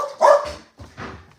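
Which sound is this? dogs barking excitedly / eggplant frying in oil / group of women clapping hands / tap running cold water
dogs barking excitedly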